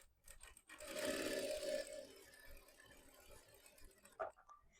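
A home sewing machine stitches through a piece of cloth with the foot pedal pressed lightly, a steady whirring run of needle strokes that swells for about a second and then continues more quietly, ending with a brief click.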